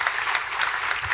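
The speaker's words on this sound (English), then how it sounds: "which deserve a round of applause" Steady applause from a large audience closes a panel discussion at the Technion, an even wash of many hands clapping at close range with no voices over it.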